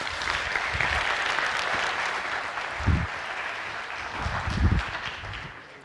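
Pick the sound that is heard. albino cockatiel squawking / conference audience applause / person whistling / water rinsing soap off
conference audience applause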